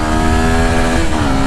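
A 2024 Suzuki Gixxer SF 250 motorcycle engine, 250cc with dual exhaust, revs hard and continuously at high RPM, loud and close, its pitch wavering slightly as the throttle is held open.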